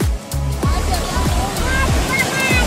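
Storm surf crashes on a Turkish beach at Mahmutlar, with a steady roar of breaking water and repeated splashes close by; voices talk in the background.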